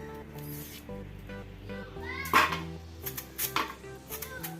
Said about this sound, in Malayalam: കാമ്പിന് വട്ടത്തിൽ അരിഞ്ഞെടുക്കാം